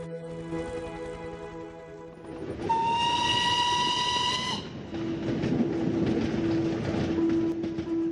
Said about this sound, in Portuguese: é possível avistar uma antiga locomotiva que avança lentamente